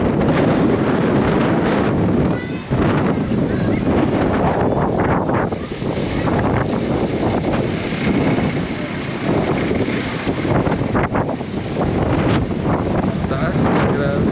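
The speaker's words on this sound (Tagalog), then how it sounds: "Lakas ng hangin." Strong gusts at People's Park in the Sky, Tagaytay, buffeting the microphone in a loud continuous roar with rumbling low-end, steady throughout with only a brief dip.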